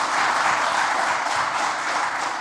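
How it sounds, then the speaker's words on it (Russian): Audience applause at a ceremony in the Kazan Kremlin marking the 30th anniversary of the Tatarstan Presidential Administration, a dense, steady wash of many hands clapping in a large hall, loud and continuous without speech. "Аплодисменты Минтимеру."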